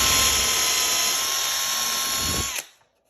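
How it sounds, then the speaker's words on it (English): A drill/driver spins a 1/8 inch bit through a pilot hole with a high, steady whir that holds for over two seconds, then cuts off abruptly into silence. "So I'll drill all the way in,"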